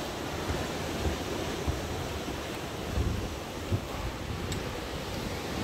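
Ocean surf at Haeundae beach at sunset, a continuous broad wash of waves with faint swells and a few soft peaks, heard from the shore with wind buffeting the microphone.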